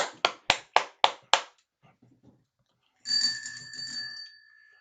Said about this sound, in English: Ringing the bell, baby.